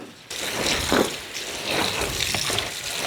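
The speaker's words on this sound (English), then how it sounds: "the first thing we need to do is wash this garment" Warm water runs steadily while a new garment is washed in a laundry sink, giving a loud, continuous rushing hiss with faint sloshing and no talk.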